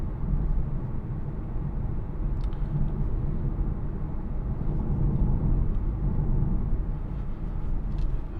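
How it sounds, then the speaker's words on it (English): A 2016 BMW 420d M Sport two-litre diesel accelerates on the road, heard from inside as a muffled, continuous low rumble of engine and road noise that swells slightly and carries no speech. "Just into it, accelerate, drives absolutely superb."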